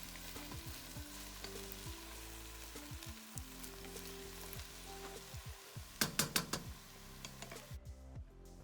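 Spinach and shrimp sizzle in a pot, a steady close frying hiss with scraping stirring strokes and a few sharp clinks of the utensil against the pot.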